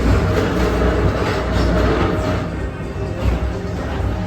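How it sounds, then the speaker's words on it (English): The Disney PeopleMover ride train rolls along its track with a steady, close rumble and faint clicking, continuous and free of talk. "your express train keeps on rolling through the future"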